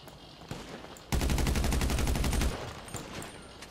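Rapid automatic gunfire in GTA 5 Online: a loud, dense burst of evenly spaced shots lasting over a second, with quieter scattered shots and game ambience before and after.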